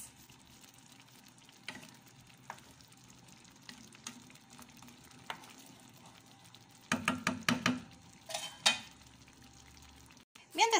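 Albóndigas (meatballs) cook in a pan with a low, constant sizzle, later broken by louder bursts of clatter and stirring near the end.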